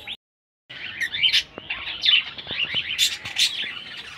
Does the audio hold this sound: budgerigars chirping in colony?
yes